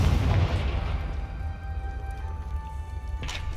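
Confringo fire spell blast in the video game Hogwarts Legacy: a loud booming explosion at the start that rolls into a long rumbling decay, with a second burst of crackle near the end.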